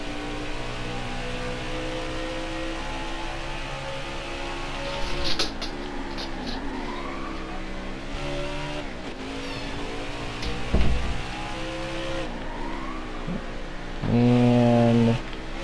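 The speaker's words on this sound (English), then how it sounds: "Gonna max rev it here." A race car engine from the NASCAR Heat 4 racing game revs hard through rising and falling harmonic sweeps, climbing toward max revs with a loud sustained burst near the end; no one talks.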